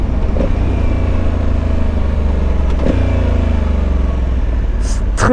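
A 2020 Honda Africa Twin Adventure Sports with the DCT automatic gearbox is ridden at a steady engine drone, with brief changes in pitch as gears shift and wind noise throughout.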